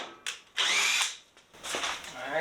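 A power drill bores pilot holes while a Harbor Freight motorcycle lift is being modified, with loud whirring bursts that start and stop, close up, and a short pause between runs.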